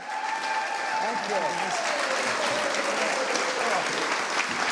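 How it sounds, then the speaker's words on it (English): An audience at an art talk in Kerrville, Texas gives a final round of applause for painters Scott Christensen and Quang Ho: dense, steady clapping that lasts about five seconds, with a voice briefly audible over it. "one last round of applause for Scott Christensen and Quang Ho."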